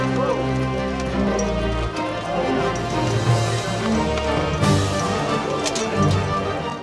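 Hooves of an army's horses clip-clopping on the march, a dense continuous clatter under someone narrating in French, with music-like tones beneath.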